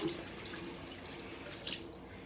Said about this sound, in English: I'm going to go ahead and rinse that off again